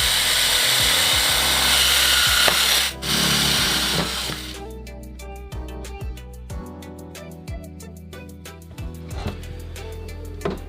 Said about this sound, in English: So it is drilling a bunch of holes from right now